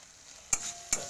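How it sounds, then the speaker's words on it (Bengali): Spices with coriander powder, salt and turmeric frying for a Bengali crab curry, a quiet sizzle under two sharp, close scrapes of a spatula against the pan. "সামান্য সামান্য একটু লবণ হলুদ মিশিয়ে আমি এটাকে প্রথমে মশলাটাকে ভালোভাবে কষিয়ে নেব"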